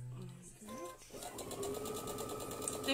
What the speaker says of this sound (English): we're stitching quarter of an inch either side